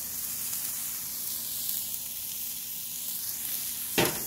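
Pork fries in a hot pan with barbecue sauce marinade, giving a steady bright sizzle and hiss throughout, with a soft clink near the end and no talk.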